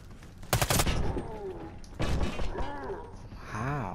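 Gunfire from a Striker automatic shotgun in the Warface shooter game, with two loud bursts of rapid blasts about a second and a half apart, followed by ringing, warbling tones.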